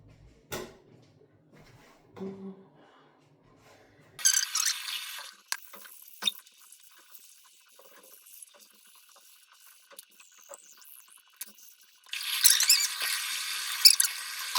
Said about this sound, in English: now I'm gonna brush my teeth